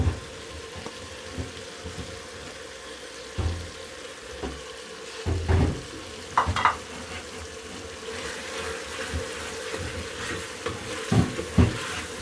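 Tomatoes sizzling and frying in a pan for an aloo gobhi sabzi, with steady crackle broken by repeated scraping stirs and clanks of a spoon.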